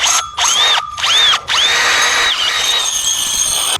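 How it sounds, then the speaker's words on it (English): A step drill whirs loudly in short bursts, then runs continuously with a high metallic squeal as it cuts through thin sheet metal. "the step drill will drill the hole in it and you're done"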